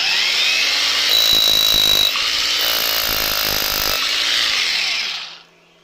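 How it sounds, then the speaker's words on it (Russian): A rotary hammer drill (breaker) rated at 1700 watts runs on power from a solar panel inverter, a loud, steady whine with rapid pounding bursts, then cutting off near the end. "Перфоратор вот такой вот работает, отбойник."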